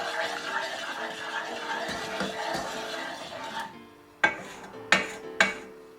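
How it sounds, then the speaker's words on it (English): A spoon scrapes and stirs melted butter and syrup in a pan for flapjacks, a steady soft scraping that stops, followed by three sharp taps of the spoon against the pan edge. "Just making sure I get any butter and syrup off the edge of the spoon."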